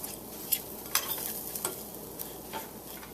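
Breadcrumbs stirred into melted butter in a pan while making penne and cheese give close, soft scraping stirs over a light, steady sizzle, with brief crisp scrapes at irregular moments.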